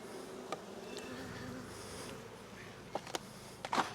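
Honey bees buzz in a low, steady drone around a caged queen during a hive split, with a few sharper, louder buzzes as bees fly close to the microphone.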